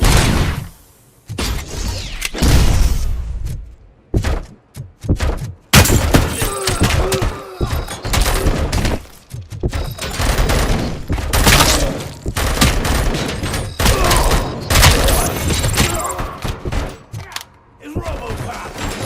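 Gunfire rattles through a firefight in RoboCop: Rogue City as loud bursts of shots, thuds and impacts, dense and uneven with short lulls, and voices cut in between the volleys.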